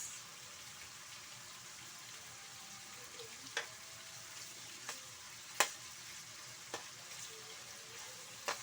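Dried anchovies (dilis) fry in a pan with a quiet, steady sizzle, broken by five sharp, isolated pops or utensil clicks spaced a second or two apart, faint overall and without talk.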